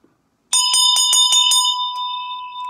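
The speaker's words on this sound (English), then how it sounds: "Oh, light the candle and ring the bell." A hand bell rung at a children's storytime in Ashbourne, several bright, loud, rapid clangs in quick succession, then a clear ringing tone that slowly fades, heard alone after a brief silence.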